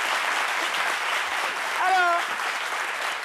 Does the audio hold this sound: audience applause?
yes